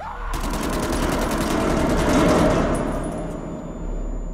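Rapid automatic gunfire in the Man of Medan video game rattles loud and continuous for about four seconds, a dense unbroken stream of shots.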